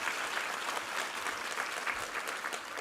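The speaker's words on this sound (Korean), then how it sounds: "우리 하나님께 감사와 영광의 박수 올려드리겠습니다." A congregation claps together in sustained, steady applause, a dense wash of many hands filling the room for a few seconds.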